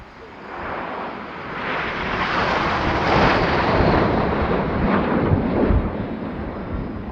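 Red Arrows BAE Hawk jets fly in a short diamond formation at an airshow, a broad, sustained roaring rush that swells and stays loud throughout, with wind buffeting the microphone.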